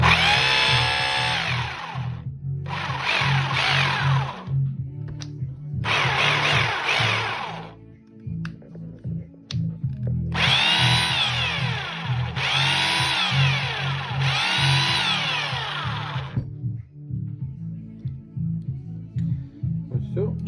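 A repaired Makita 2470 rotary hammer drill runs in several bursts of high whining and rattling hammer action, stopping and restarting, with a steady low hum between runs.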